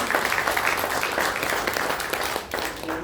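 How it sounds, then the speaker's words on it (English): Audience applause at an education address honouring a teacher, a dense, steady burst of clapping from a large seated crowd, continuous and fairly loud with a brief dip near the end. "So if we can have a round of applause for Lorraine as well."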